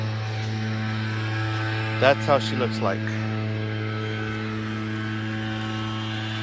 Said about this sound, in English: Apologies for the background noise. That's my neighbor cutting his lawn.